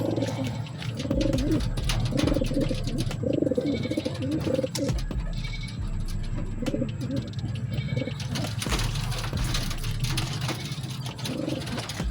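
Racing pigeons in a coop coo repeatedly in soft, low rolling calls, close by, over a steady background hum with occasional rustling.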